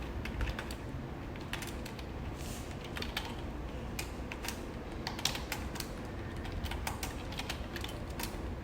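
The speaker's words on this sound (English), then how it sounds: "I'll type in as per the reference." Close computer keyboard typing, irregular bursts of key taps over a constant low background hum, no voices.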